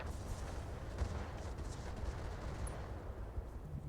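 Mech weapons firing on a target in a modded Battletech tactics game, a faint, steady wash of rumbling distant gunfire and muffled blasts running throughout with no clear separate shots.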